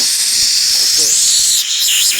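Nitrous oxide bottle gas hissing steadily from a leaking fitting on a 2016 S10 truck's NOS setup in a garage, a loud continuous high hiss lasting throughout with a brief dip near the end.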